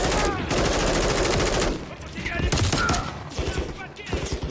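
Rapid automatic gunfire from the Call of Duty: Modern Warfare 3 video game, dense bursts of loud close shots in quick succession with brief gaps between volleys.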